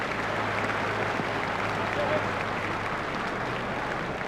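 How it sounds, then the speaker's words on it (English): Crowd at a New Zealand versus Australia cricket match applauding a batsman's innings, a steady wash of distant clapping from the stands with a commentator's voice underneath. "The crowd are giving him a great round of applause as they appreciate the importance of this knock"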